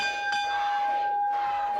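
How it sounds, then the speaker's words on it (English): A wrestling ring bell rung to start a match at a 2007 Memphis Wrestling event, giving a sharp ringing strike with a long sustained metallic tone and a second strike near the end, loud and close. "we'll do what we just done. And that's ring the bell"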